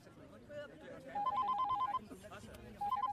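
A telephone rings indoors in two short bursts of trilling electronic ringing, a longer one in the middle and a brief one at the end. Quiet, muffled talk sits underneath.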